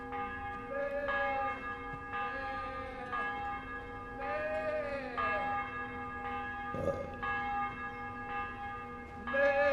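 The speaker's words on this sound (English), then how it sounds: "Who's ringing the bell?" A church bell tolls again and again in the video game Kingdom Come: Deliverance, in a steady rhythm, each ringing tone hanging over the next, with a low drone beneath.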